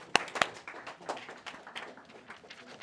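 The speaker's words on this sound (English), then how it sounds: "round of applause" A small classroom group gives a brief, scattered round of applause after a binary lesson: two sharp near claps open it, then softer uneven clapping from several students that tapers off.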